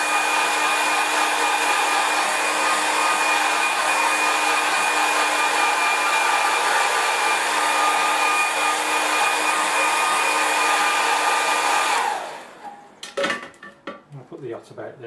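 A hair dryer blows steadily on wet watercolour paint of a landscape painting, a loud continuous whir that cuts off near the end, followed by a few soft clicks and handling sounds.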